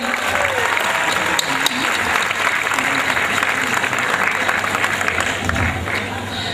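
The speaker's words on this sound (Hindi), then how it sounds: "एक बार जोरदार तालियां हमारे सभी अतिथियों के लिए" Loud, sustained applause from an audience at a teachers' event, welcoming guests with dense, steady clapping from start to finish and faint crowd murmur underneath.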